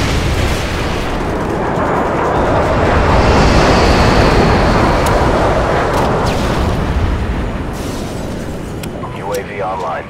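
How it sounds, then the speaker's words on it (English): Airstrike explosions in a Call of Duty hardcore Search & Destroy match: a loud, sustained rumbling barrage of blasts that swells and rolls for several seconds, with a voice heard near the end. "Friendly airstrike inbound."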